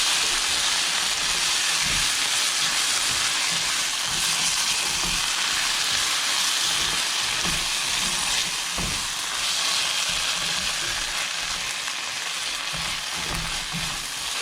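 Biryani masala fries in a pan with a dense, continuous hiss of sizzling oil, while scattered thumps and scrapes of stirring come through over fourteen seconds, close and fairly loud, with no talking.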